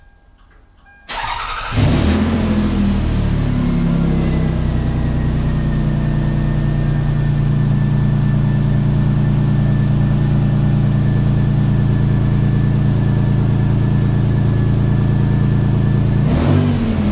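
A car engine cranks briefly, catches and settles into a steady loud idle, with a slight exhaust leak; the running hum continues evenly, then a short rise near the end.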